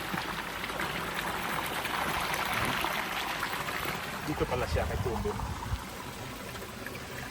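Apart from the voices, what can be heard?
water flowing out of a drainage pipe into a creek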